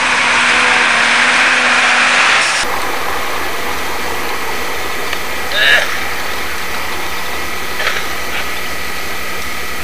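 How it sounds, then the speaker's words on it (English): The oldest truck engine, on a road in China, idles in a steady, mid-pitched hum that continues evenly after a brief louder opening, with faint scattered clicks in the background. "And the oldest truck in the world."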